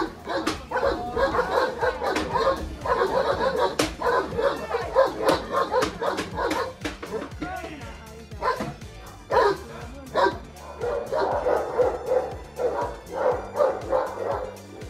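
Moscow watchdog puppies and young dogs indoors bark and yip excitedly at a decoy, a dense, overlapping chorus of high barks with whimpers, continuing in bursts throughout.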